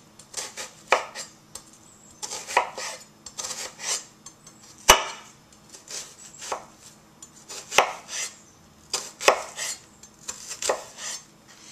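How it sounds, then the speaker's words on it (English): A kitchen knife cuts through a vegetable on a chopping board in a steady series of crisp, close thuds, some in quick clusters and a few sharper knocks, with no talking. "I'm going to take my knife and I'm going to start by making one nice cut right down the center"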